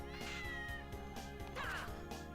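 Cat meowing in the video game Castlevania: Order of Ecclesia, two distinct meows mixed under loud, busy game music.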